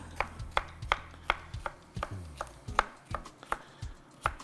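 Garlic and bell pepper being chopped with a knife on a cutting board: about a dozen crisp, evenly spaced strikes close by, with no talking.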